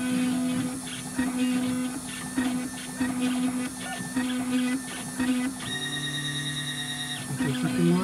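Engraving machine cutting into a trophy cup base: a steady mechanical whine and hum with rhythmic pulsing stepper-motor tones, a sustained higher tone in the middle, close and continuous, with faint talk in the background.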